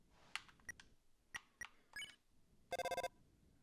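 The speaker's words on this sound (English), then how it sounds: "The phone is ringing, but you can't get it." Landline phone in the Deltarune video game gives a short burst of rapid electronic ringing pulses after a few scattered beeps and chimes, quiet and alone with no talk.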